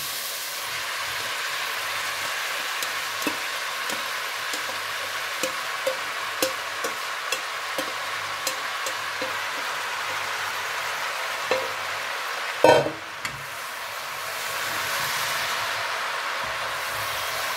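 Thai basil pork with vegetables being stirred in a wok, giving a steady sizzling hiss with light, evenly spaced scrapes of the spatula and one louder clatter near the end, close by.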